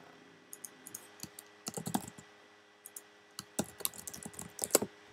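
Typing on a computer keyboard while working in the OPENSTEP Edit text editor: irregular bursts of close, crisp key clicks with short pauses between flurries, no voices.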